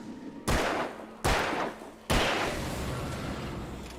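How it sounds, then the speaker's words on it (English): Three sharp, loud gunshots from the video game Alan Wake, spaced about a second apart, each with a sudden crack followed by a long decaying echo that lingers into a steady roar. "preemptive shot here"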